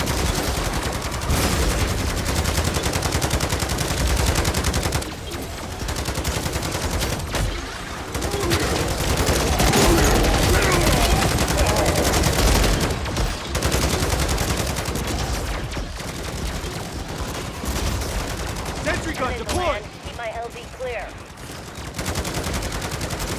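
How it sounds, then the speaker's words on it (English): Sustained automatic gunfire in Call of Duty MWZ zombies mode, rapid dense bursts laying down cover fire almost without pause, loud and close, with game voice lines mixed in. "Strike team, lay down the cover fire."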